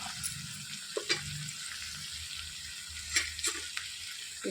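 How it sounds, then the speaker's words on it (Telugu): A spoonful of ginger garlic paste frying in oil for a drumstick masala curry: a soft, low sizzle with a few brief scraping stirs, quiet and close. "ఇందులోనికి కొద్దిగా 1 స్పూన్ అల్లం వెల్లుల్లి పేస్ట్, పచ్చివాసన పోయేంత వరకు వేయించేసుకోవాలి."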